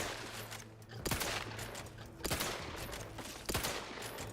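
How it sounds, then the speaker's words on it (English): Gunfire in a first-person combat video game against a large enemy, three sharp shot bursts about a second apart over a steady background hum of game sound. "I didn't know what else to do, so I'll just shoot."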